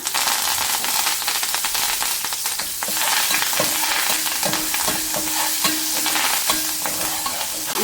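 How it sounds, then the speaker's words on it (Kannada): Curry leaves fry in hot coconut oil on a tawa while mackerel masala fry is cooked, making a loud, steady sizzle and crackle with faint stirring scrapes throughout and no voices. "ಈಗ ಇದೇ ತವಕ್ಕೆ ನಾನು ಮತ್ತೆ ಸ್ವಲ್ಪ ತೆಂಗಿನೆಣ್ಣೆಯನ್ನು ಹಾಕ್ತಾ ಇದ್ದೀನಿ"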